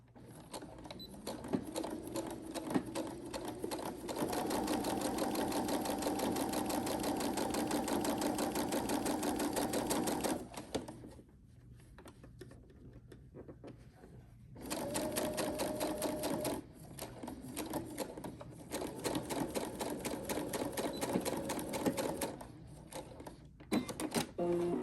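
Sewing machine stitching across a fabric ruffle bag to close its opening, a steady close whirring run of about ten seconds, a pause, then two more long runs of stitching.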